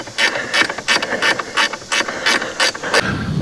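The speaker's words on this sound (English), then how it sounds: "so I just went and got a 13mm stubby ratchet wrench." A 13mm stubby ratchet wrench tightens bolts on a 2006 Silverado Duramax during fan clutch work, giving about ten quick bursts of close, crisp clicking in a steady back-and-forth rhythm.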